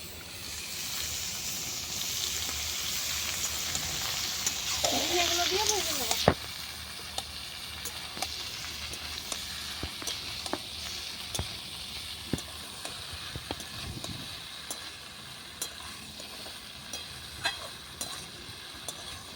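Ridge gourd pieces added to hot oil with already-fried potato in a pan on a clay stove give a loud, bright sizzle that drops sharply after a few seconds. A quieter frying hiss continues with scattered scraping and clinking of stirring.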